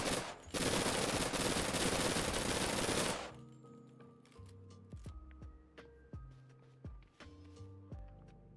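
A loud, continuous stream of gunfire aimed at the player in the survival game Persist Online lasts about three seconds, followed by sharp, sparse clicks and metallic handling sounds at a much lower level, with no talking.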